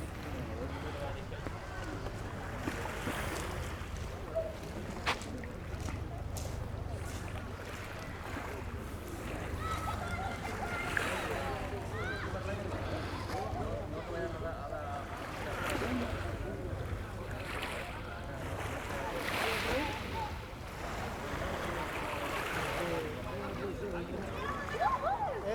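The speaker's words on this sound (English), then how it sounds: "just listen to the sea lapping against the shore." Gentle sea waves wash and splash continuously against the shore nearby at Palmanova, Mallorca, with occasional voices in the background.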